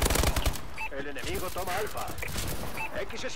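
Rapid automatic gunfire in Call of Duty: Advanced Warfare, a burst of shots at the start followed by layered game effects and electronic tones, a voice talking over much of it.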